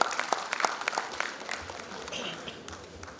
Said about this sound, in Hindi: जोरदार तालियों से अभिनंदन स्वागत डॉक्टर अमित नायक.